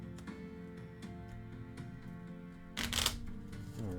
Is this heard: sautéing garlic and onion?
no